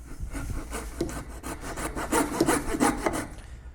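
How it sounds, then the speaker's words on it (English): Coping saw cutting waste from a clamped workbench piece, quick close rasping strokes in a steady back-and-forth rhythm, growing slightly louder toward the end. "we can go ahead with a coping saw and we'll remove the waist right here in this center one"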